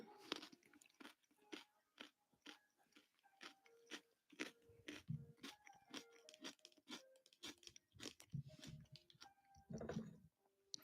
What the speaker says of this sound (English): Are you guys getting chewing ASMR?